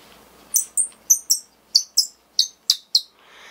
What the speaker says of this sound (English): And it's a bird call.